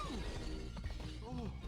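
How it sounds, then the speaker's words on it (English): Glass shatters from a sneeze in the Madagascar 3 video game, a short crash under steady game music and sound effects, with voices in the mix. "now we're gonna sneeze to break this glass"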